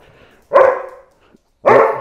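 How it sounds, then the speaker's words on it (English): A dog barks twice, loud and close, with a short pause between the deep, full barks. "a dog here"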